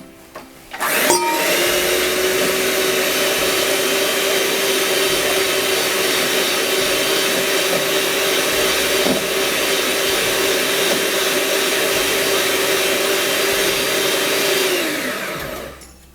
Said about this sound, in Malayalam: നമുക്കിതിനെ ബീറ്റ് ചെയ്തെടുക്കാം.